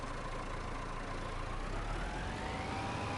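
A tractor engine in Farming Simulator 25 runs as a steady, loud low rumble with a rising whine, continuous throughout and with no talk.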